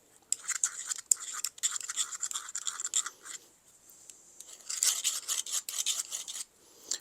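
A steel file drawn across the edge of a woodworking scraper held slightly off square, producing repeated rasping strokes that start light and grow firmer, with a short pause midway before the strokes resume.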